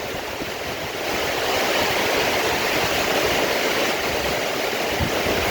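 Heavy storm rain pours down with rushing water, a dense, loud, steady roar that swells after the first second and continues without pause.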